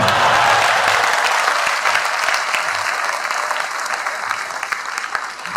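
Loud, dense audience applause at a seminar on communal harmony, starting strong and gradually thinning toward the end, with no talking.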